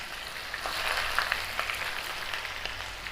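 Jackfruit pieces frying in hot oil for an Assamese-style curry, a soft steady sizzle with scattered small pops and crackles, heard close and fairly quiet.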